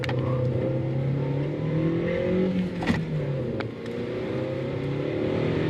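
A car engine idles and revs steadily from inside the cabin during a mechanical brake test, with a few sharp clicks and knocks over the continuous rumble.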